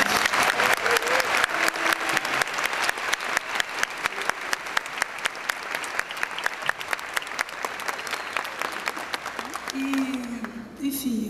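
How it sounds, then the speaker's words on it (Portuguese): A concert audience in Rio de Janeiro applauds steadily for a show, dense clapping with sharp rhythmic claps standing out, and voices speaking and calling out under it. "queria pedir uma salva de palmas a eles"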